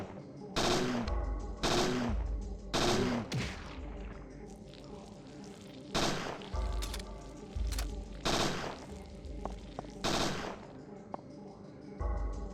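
Gunfire in the survival horror game Parasite Eve 2: a series of sharp, punchy shots, several in quick succession and then spaced out, each with a short reverberant tail over quiet ambient game sound.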